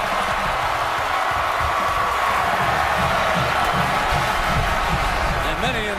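A dense stadium crowd roars and cheers without pause as fans storm the field after Clemson's win over Georgia at a college football game, a steady wash of massed voices.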